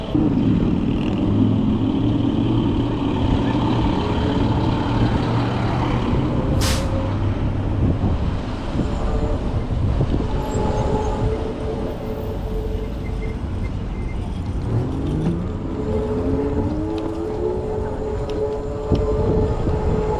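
A vehicle with newly changed brake pads gives rising and falling tonal whines from its brakes, heard over continuous road and engine rumble while driving.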